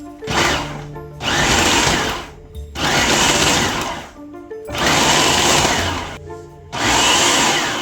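A food processor pulses butter and flour together for pumpkin pie dough, giving four loud whirring motor bursts, each a second or more long, separated by brief pauses.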